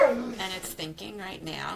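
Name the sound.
dog barking in the background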